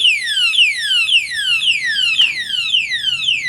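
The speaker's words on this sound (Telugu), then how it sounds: "ఈ విధంగా అలారం వస్తుంది." An anti-theft alarm lock, set off by being touched, blares a rapid, repeating falling siren sweep, loud and close, with no talk over it.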